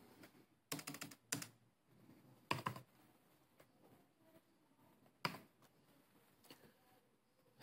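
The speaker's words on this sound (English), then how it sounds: "I'm typing one-handed and not for the right reasons" Short bursts of clicky computer keyboard typing, a few quick keystroke runs separated by pauses in a quiet room.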